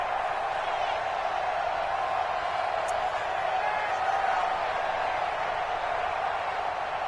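A football stadium crowd in a PS4 game holds a steady, even roar throughout, a constant wash of distant cheering with only faint variations in level.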